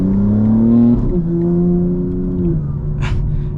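An 800 HP BMW M4 Competition xDrive engine on light throttle, a loud close droning rev that steps up in pitch and holds steady, then settles, with a short hiss near the end.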